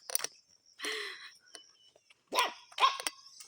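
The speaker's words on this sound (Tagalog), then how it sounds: "Ano rin mga aso na galit na galit." Several dogs bark angrily outdoors during a walk, delivering short bursts of loud barks in separate clusters with silent gaps between them, fairly near.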